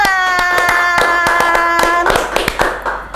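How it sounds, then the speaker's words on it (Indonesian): Hands clap in a quick, even rhythm at close range, with a sustained musical tone ringing behind the claps. "Tepuk tangan."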